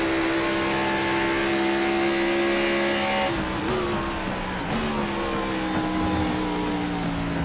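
Race car engine in the iRacing sim at Watkins Glen, a loud, steady high-pitched drone that dips and shifts as the car lifts and changes gear, alone without talk.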